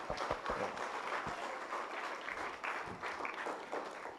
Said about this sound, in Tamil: ஒரு தடவை கைத்தட்டி 2 பேருக்கு பாராட்ட சொல்லிடுவோமா?